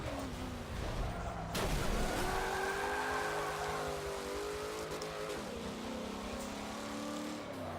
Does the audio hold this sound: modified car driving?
yes